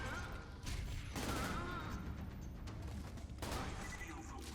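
Jakobs coach gun shotgun blasts in Borderlands 2, several loud, close booming shots with broad crackling bursts separated by short gaps, over continuous game noise.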